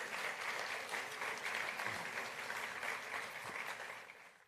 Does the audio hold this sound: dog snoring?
no